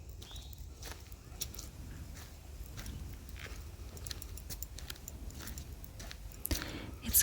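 Footsteps crunch over sticks and pine needles on a forest walk among cedar trees, a soft close series of irregular snaps and crackles underfoot.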